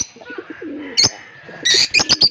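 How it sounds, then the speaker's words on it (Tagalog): A small pet bird, apparently a dove, gives soft cooing notes followed by sharp, loud chirps close by, with no talk. "Mayroon pa po akong cute na bird."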